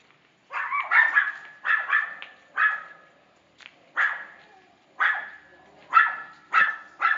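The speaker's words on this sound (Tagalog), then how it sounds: "Ito, may ingay ang aso." A dog barks repeatedly in short bursts, about ten sharp barks spaced irregularly, fairly close and loud, with no other sounds between.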